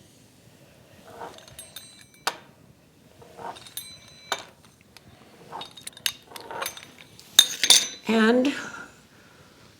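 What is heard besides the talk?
knife cutting dumpling dough into strips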